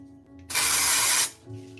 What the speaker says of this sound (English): Dry shampoo, baby.